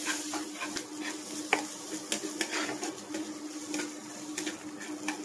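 Shrimp head mash with ground spices being stirred and sautéed in a pan for a Bengali chingri vorta, a soft continuous sizzle broken by irregular scraping and clinking strokes, fairly quiet and without talk.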